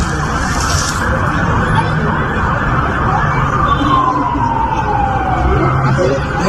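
Multiple ambulance sirens sound together during a shootout in Celaya, a loud, steady wail with slowly sweeping pitch, with some voices mixed in underneath.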